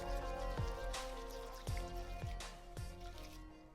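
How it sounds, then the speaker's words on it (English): Mayonnaise, rice vinegar, sugar and salt stirred together in a bowl for Japanese potato salad, giving soft, wet squelching strokes at a slow, regular rhythm, close and fairly quiet. "Now we just need to stir this together until it's nice and smooth."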